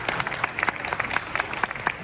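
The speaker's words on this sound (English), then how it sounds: "Let's give them a round of applause." Sparse, faint clapping from a small audience at a Southern Hemp Expo panel, distinct individual claps scattered unevenly with a few voices underneath.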